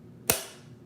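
A hyaluron pen fires once while injecting lip filler into the corner of the lip, giving a single sharp, close snap that fades quickly into quiet.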